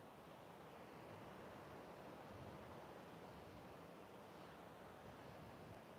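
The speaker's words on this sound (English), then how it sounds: "Good to be back with the sound of the ocean here." Ocean surf rolls steadily onto the San Diego shore, a continuous broadband wash with no distinct breaks, moderately faint and alone without talk throughout.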